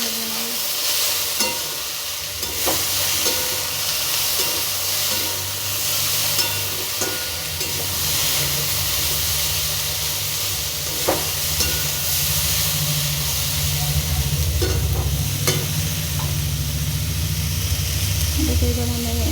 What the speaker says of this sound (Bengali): যতক্ষণ না পুরোপুরি ভাজা হয়ে যাচ্ছে মানে সেদ্ধ হচ্ছে ততক্ষণ পর্যন্ত এটাকে এভাবেই আঁচটা কম করে